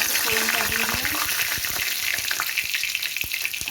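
Oil sizzles and crackles steadily in a wok, with scattered pops and clinks of stirring throughout.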